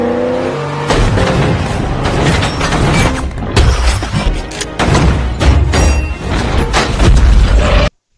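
A car explodes in a loud, dense action-film scene from Terminator, with heavy booming blasts, crashing debris and roaring engine noise that fill the whole stretch before cutting off abruptly.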